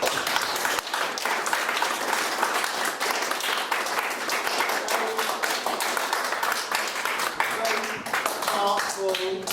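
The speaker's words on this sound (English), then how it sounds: "Let me give you another round of applause." An audience of middle school students and leaders claps in sustained applause, a dense crackle of many hands at close to moderate distance lasting throughout, fading slightly at the end as a voice begins.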